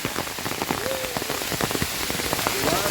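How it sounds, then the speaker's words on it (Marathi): Heavy rain pours steadily on a forested fort trail during a slippery descent at Mahimatgad, Ratnagiri, a dense continuous patter with many close droplet hits; a faint voice rises briefly over the downpour. "प्रचंड पाऊस आलेला आहे"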